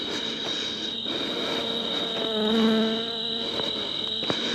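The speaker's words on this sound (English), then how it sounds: "There's a couple bees all around me." Several bees drone around a hive in grass at night, a steady buzzing close to the microphone that swells as one flies nearer, then recedes, with no voices.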